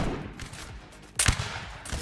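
A musket volley cracks out in a Napoleonic Wars battle in Mount & Blade Warband, one sharp burst of gunfire among fainter scattered shots over a busy battlefield background, with no voices.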